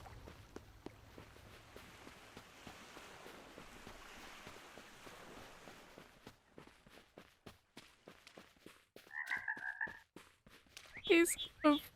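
Frogs croak in the video game Spirittea, short clustered calls rising late over a quiet bed of soft footsteps and light clicks, faint and close.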